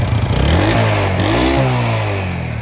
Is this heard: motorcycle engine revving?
yes